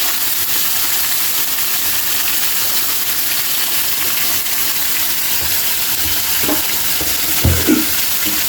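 Pork hits a hot pan for batchoy and fries with a loud, continuous dense sizzle close up, with a few soft utensil knocks near the end.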